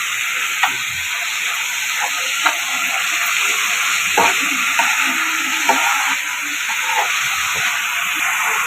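Grated onions and green chillies sizzle steadily in hot oil for an egg curry, with a spoon scraping and stirring the pan at intervals, close and continuous.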